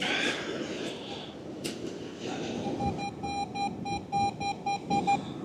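Metal detector on a beach hunt gives a run of short, regular electronic beeps in the second half, close and clear over steady surf and wind noise.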